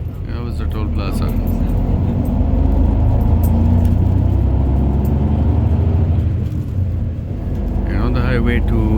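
A bus merges onto a highway on the route from Angeles toward Subic Bay and Olongapo. A loud, steady low engine and road rumble swells slightly as the bus gathers speed, with people talking over it.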